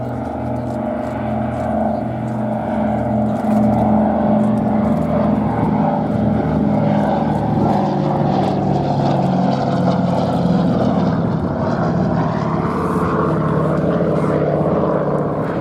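A Douglas Dakota propeller airliner flies a display at the Duxford airshow, giving a loud, steady, droning radial-engine roar that holds strong throughout with a slight shift in pitch as it passes.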